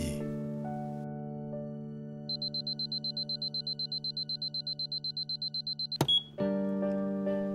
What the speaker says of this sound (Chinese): 闹钟不解人意。